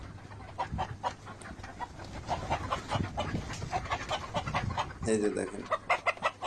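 Egg-laying Fayoumi hens cluck repeatedly at close range in short, uneven bursts, and someone speaks briefly over them.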